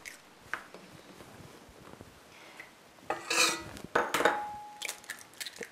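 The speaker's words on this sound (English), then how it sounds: "it's always a good idea to crack them in a bowl" Four eggs are cracked into a bowl, a series of sharp close taps and crackles with wet clicks in between, quiet at first and then louder bursts toward the end.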